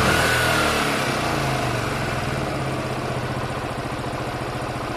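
A Honda Varadero 125 motorcycle engine idles during carburettor tuning after a carb rebuild and balance, a loud, close, steady mid-pitched putter that eases slightly as it settles, with no voices.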